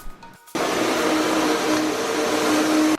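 An LG vacuum cleaner switches on after a brief moment of quiet and then runs with a loud, steady whine and roar that stays constant to the end, with no talking.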